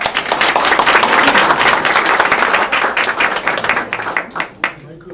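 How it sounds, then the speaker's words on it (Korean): A lecture audience claps together at the start of a talk on a hot day, a loud, close burst of many hands with some individually audible claps, sustained for about four seconds before tapering into a few last scattered claps. "이렇게 더운데 같이 힘내자고 박수 한번 치고 시작하겠습니다."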